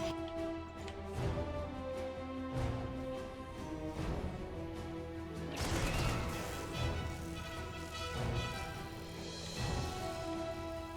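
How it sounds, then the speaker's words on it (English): A Protoss Gateway blows up during a StarCraft II Terran-versus-Protoss tournament match: loud, broadband crashing bursts, strongest around the middle, rising over a dense bed of sustained game music and effects. "Gateway explosion"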